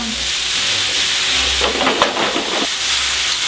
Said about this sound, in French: J'ai fait suer les oignons et les carottes.